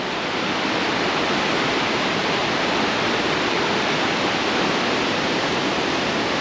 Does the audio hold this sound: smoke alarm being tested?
no